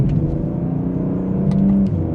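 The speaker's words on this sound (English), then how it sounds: "So let's pop it into second gear now, give it a slight acceleration." A 2025 BMW M240i coupe accelerates gently in second gear, its engine giving a steady, close, continuous hum with a rising tone near the end.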